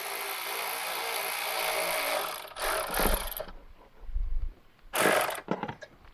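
Close mechanical clicking and ratcheting as a hose clamp is tightened on an oil catch can hose, short bursts following a steady hiss of background noise, with no talking.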